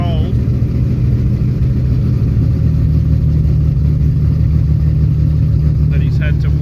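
A cold car engine idles at a burnout event, its idle screws wound up and transmission fluid leaking. A loud, steady low rumble runs throughout with a thin whine above it, continuous and close.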